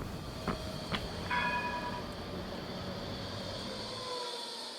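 Tram running through Beeston, a steady rolling rumble with a faint high electrical whine and a short bright ringing tone near the start, fairly distant and continuous before fading at the end.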